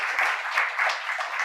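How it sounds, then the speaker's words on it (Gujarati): Sustained audience applause honouring three dignitaries at a Gujarati book-introduction gathering, a dense, steady wash of many hands clapping with slight swells, no voices over it. "ત્રણેય મહાનુભાવોનું ખૂબ તાળીથી સન્માન કરીએ"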